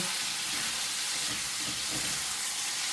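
Steady, loud sizzling of velveted chicken stir frying in a hot pan, a continuous frying hiss with faint stirring scrapes underneath, no pauses.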